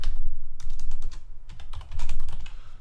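Quick bursts of keystrokes on a computer keyboard, clustered clicks with brief pauses between them, close and clear with no talking.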